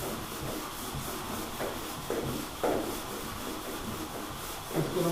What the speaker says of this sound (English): I'm going to try to stay right in this area when I'm doing the blocking.